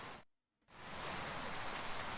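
Steady rain pours down during a mud pit fight in Kingdom Come: Deliverance II, a dense hiss that cuts out briefly near the start and then resumes evenly, with no voices.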